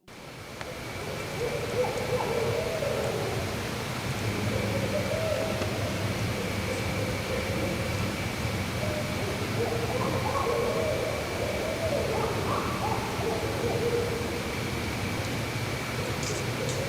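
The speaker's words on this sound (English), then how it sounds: "I know one of them for sure was an owl" An owl hoots near a campsite at night, soft low calls repeating irregularly at a distance beneath a steady hiss of background noise.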